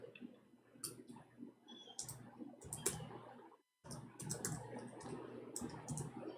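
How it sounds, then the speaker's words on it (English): Fingers type on a computer keyboard in quick bursts of close, crisp key clicks, with a brief silent break partway through before the clatter resumes. "We are typing in English, sorry."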